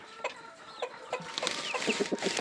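A native hen clucking on a small farm: a series of short, fairly close clucks with rising and falling calls, growing busier toward the end, over faint farmyard background and no talk.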